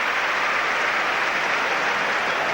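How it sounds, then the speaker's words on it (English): A football crowd at Old Trafford during a 1993–94 Premier League match between Manchester United and Tottenham Hotspur, heard as a loud, steady, even roar of noise. "the crowd are buzzing here at Old Trafford"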